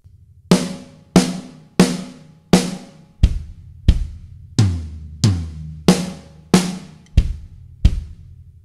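Beginner linear fill on an acoustic drum kit, playing rack tom, snare and kick drum in a steady stream of about thirteen single strokes. Every hit is loud and close with a short ringing decay, and nobody talks over it.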